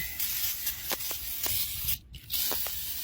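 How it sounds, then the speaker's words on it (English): A steady hissing spray of brake cleaner on brakes runs almost continuously, broken by a brief pause near the end before resuming, close up with faint clicks underneath. "We're gonna spray all this stuff down."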